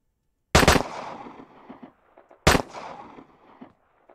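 Two sharp gunshots in the online street-shooter game Streets of War, spaced about two seconds apart, each loud and close with a short echoing tail and a few faint clatters after.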